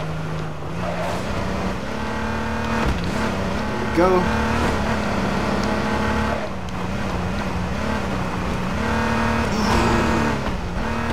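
A car engine drones steadily while driving in the video game H1Z1 King of the Kill, shifting pitch as it speeds up, under a player talking.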